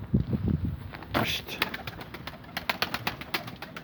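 Soft pigeon cooing close by inside a pigeon coop, mixed with rustling and sharp clicking or tapping sounds, in a short busy stretch.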